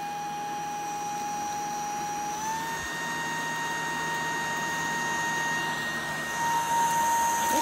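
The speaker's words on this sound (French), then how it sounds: "on entend bien les miettes quand elles montent dans l'aspirateur" A vacuum cleaner running at its second speed setting sucks up crumbs in a kitchen, giving a steady close whine that rises slightly in pitch partway through, with faint rattling from debris.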